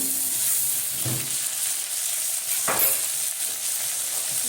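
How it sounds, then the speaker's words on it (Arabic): Tripe sautéing with onion in a pan, a steady bright sizzle with a couple of brief stirring scrapes, close and continuous with no talk. "وهشوحها مع البصله قبل ما احط الطماطم اهو"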